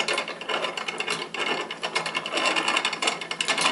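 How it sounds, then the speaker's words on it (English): Venison sausage meat being loaded into a sausage stuffer, giving a steady run of close mechanical clicking and ratcheting, with gear-like rattles throughout and no talking. "So just like we did the snacking sticks, we load up the sausage stuffer."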